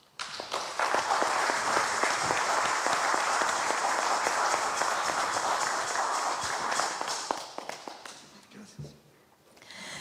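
A large audience breaks into warm, sustained applause to welcome an engineer at an event in Peru, a dense, loud wash of clapping that holds for about eight seconds before fading into scattered claps and quiet.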